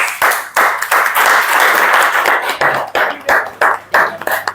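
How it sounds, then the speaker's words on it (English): A round of applause from a class audience during a vocabulary-building session, loud close clapping with uneven pulses and brief dips, several hands striking in quick succession. "Big round of applause."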